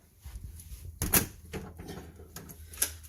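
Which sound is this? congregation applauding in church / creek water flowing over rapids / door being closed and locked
door being closed and locked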